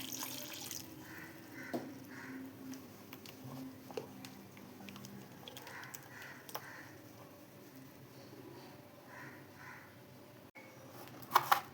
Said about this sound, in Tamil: தண்ணி சேர்த்துக்கலாம்.